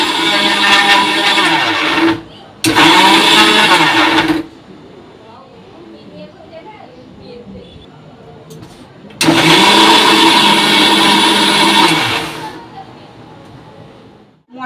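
An electric mixer grinder whirs loudly as it grinds spices, running in two short bursts and then a longer one, with quiet gaps between and a brief voice in the background.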